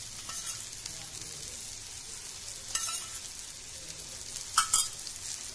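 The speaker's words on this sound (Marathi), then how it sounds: "वरतून असं थोडं कच्चं तेल सोडायचं" Hadga flower bhaji fries in a pan with raw oil poured over the top, a soft steady sizzle with a couple of brief louder crackles and spits near the end, quiet and without talk.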